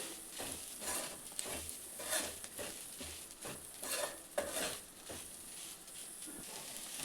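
Okra (bhindi) fry being stirred in an AMC cookware pan makes a quiet, soft sizzle. Spatula scrapes come in loose bursts every second or so.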